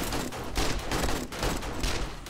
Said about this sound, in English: Those guns are so loud. My goodness, this is crazy. So many guns going off.